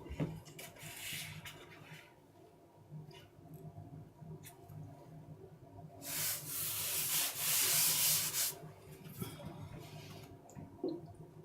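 A blade drawn over a steel diamond sharpening stone in repeated rubbing strokes, with a louder, harsher stretch of grinding midway, fairly close and with no talk.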